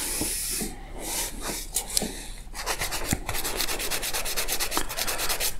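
Rhythmic rasping strokes of sanding on soldered photo-etched metal tank parts, starting slower and settling into a fast, steady back-and-forth scrub, close and alone without talk.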